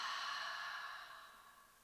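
A single long, soft exhale through the mouth during a breathing exercise, close and breathy, fading steadily over about two seconds.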